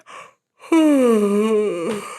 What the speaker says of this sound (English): It's a mental and a physical reset, yawning